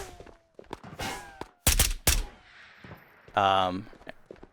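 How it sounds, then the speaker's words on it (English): Several sharp, loud gunshot bursts crack out in quick succession in the video game Ghosts of Tabor, separated by quieter gaps with faint movement sounds and a brief tonal electronic blip. "all of that gunfire, followed by silence"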